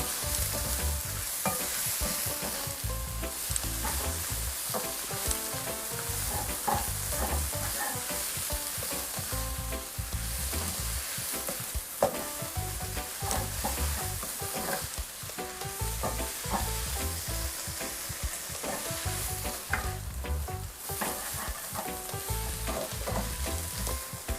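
Pickled mustard greens stir-fried with garlic and oil: a constant loud sizzle with frequent spatula scrapes and clanks against the pan throughout, close up and without speech.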